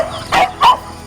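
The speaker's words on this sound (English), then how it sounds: "Ah, the dog's following us" A dog barks twice in quick succession on a morning walk through a residential neighborhood, close and fairly loud over light outdoor background noise.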